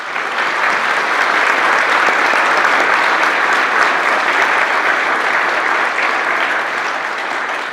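Loud, sustained applause from a crowd at a community meeting about a wildfire, honouring the fire crews, a dense continuous roar of clapping that holds steady throughout.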